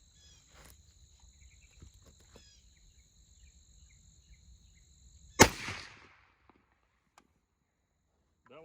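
A single sharp, loud rifle shot from a Springfield M1A Tanker cracks out once and rings off quickly, set against quiet outdoor insect chirping before and after.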